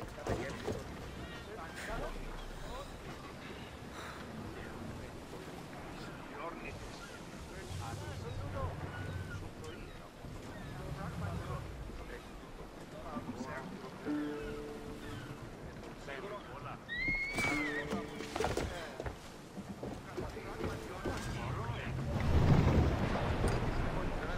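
A sailing ship glides across the sea in Assassin's Creed Odyssey, with steady wash of waves and wind rushing beneath someone talking throughout.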